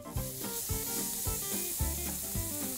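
'Nduja beef patty sizzling in a smoking-hot oiled skillet, a steady bright crackling hiss with several sharp scraping, knocking hits layered over it, close and clear.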